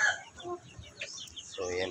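Four-month-old Shamo Aseel chickens on a farm give short, scattered clucks and squawks, close and fairly quiet, with faint background noise between calls.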